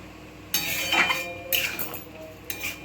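Paneer chilli being stirred in a cooking pan, with repeated metallic scrapes and clinks of a spoon against the pan in short bursts, close and moderately loud.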